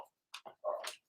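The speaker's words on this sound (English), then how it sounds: "my dog's barking because that's what he does" A dog gives a few short, faint barks and whimpers in a quiet room, in separate brief bursts spread over about a second.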